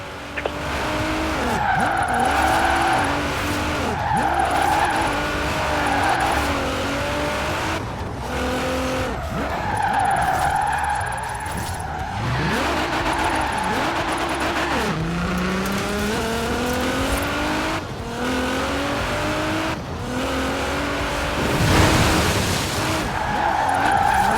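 Tires squealing and skidding as a car drifts in Forza Horizon 4, with long screeches over a revving engine that rises and falls throughout.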